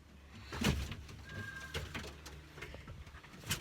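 Soft, low cooing from birds nearby, mixed with faint rustling, a brief squeak and small clicks in a quiet space.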